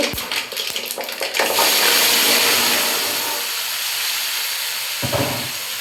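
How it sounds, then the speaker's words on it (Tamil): Steady hissing sizzle of mustard seeds spluttering in hot oil while making gooseberry pickle, dense and continuous, with a few brief clatters of a utensil near the start and end. "கடுகு வெடிச்சிருச்சு"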